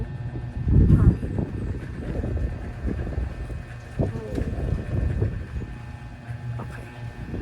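Gusty wind buffets the microphone outdoors on a gray, blustery day in Cebu before a concert, a steady low roar rising and falling with faint background voices underneath.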